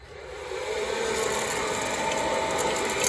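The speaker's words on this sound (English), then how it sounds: "You can hear the beans kind of hopping around in there" Coffee beans rattle and tumble nonstop inside a running popcorn popper used as a home roaster, a dense, steady clatter over the motor's whir, close and even in level throughout.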